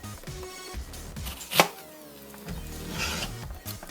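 A knife cuts through an onion on a cutting board with scattered soft strokes and rubbing, including one sharp, prominent chop near the middle, heard close up without talk.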